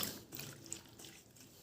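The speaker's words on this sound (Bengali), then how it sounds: "তো দেখো এখানে কিন্তু আমি জল দিয়ে দিচ্ছি, দিয়ে ভালো করে পাতাগুলো 2-3 বার কিন্তু ধুয়ে নেব" Water poured over hibiscus leaves and flowers as they are washed, a soft steady splashing trickle, faint and close.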